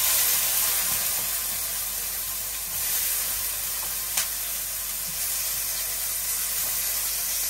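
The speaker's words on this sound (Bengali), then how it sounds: "জিরার ফোড়ন আর তেজপাতা দিয়ে দিলাম। আর টমেটো কুচি দিয়ে দিলাম।" Cumin and bay leaf tempering in hot oil, with chopped tomato added, sizzles and hisses steadily and close up, a continuous bright frying crackle with a single sharp pop midway.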